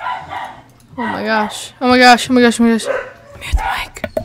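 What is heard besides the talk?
dog barking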